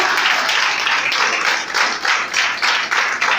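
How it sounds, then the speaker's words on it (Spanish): A church congregation applauds steadily for a few seconds, a dense wash of many hands clapping with slight swells and dips in intensity, no voices standing out. "Un aplauso a la hermana Lía"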